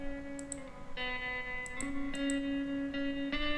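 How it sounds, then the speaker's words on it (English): Isolated guitar track from a band mix with EQ, saturation and reverb, playing sustained bright chords and notes that change every second or so, with sharp pick attacks and ringing overtones, no voices. "This is the sound of the other guitar in the center."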